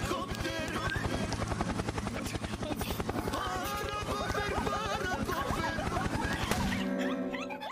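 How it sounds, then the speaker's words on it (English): A helicopter in the VRChat video game chops steadily with a fast, even rotor thump that runs loud and continuous almost to the end, then cuts off suddenly. "Helicopter, helicopter."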